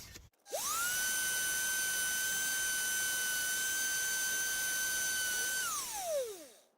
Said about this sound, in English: And now fine sandpaper.